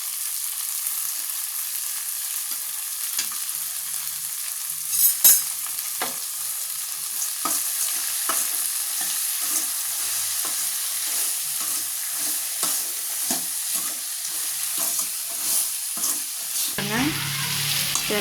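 Mango pickle is stirred with chilli powder, salt, asafoetida and curry leaves: repeated close scraping and mixing strokes over a continuous sizzling hiss, with no voices.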